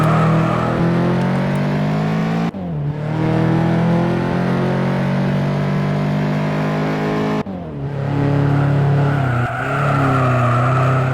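A Honda CRX engine in the Juiced racing game revs hard and loud, dropping sharply at two gear shifts before climbing again, with no talking.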